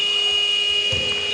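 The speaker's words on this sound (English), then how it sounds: "the buzzer rings out" Electronic buzzer sounding a continuous steady tone at the end of the third quarter of a university basketball game between UA92 and Salford, with faint arena thumps.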